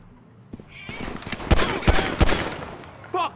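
Gunfire in the GTA V repossession mission, played in first person, with a few sharp, loud shots in quick succession amid background game sounds and voices.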